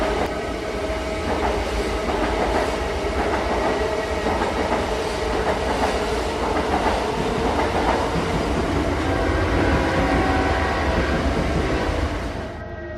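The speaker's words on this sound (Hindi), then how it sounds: "रात के 8 बजे शताब्दी एक्सप्रेस स्टेशन पे आती है।" A Shatabdi Express train arrives at a station with a loud, continuous rumbling roar and rhythmic clickety-clack of wheels on rails, close and steady throughout before easing slightly at the end.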